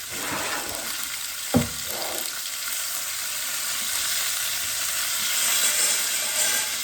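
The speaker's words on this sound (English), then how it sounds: "Okay, it's getting a really good sear." Chicken searing skin-side in a hot pan, a loud, constant close sizzle and hiss with one sharp knock of a utensil early on.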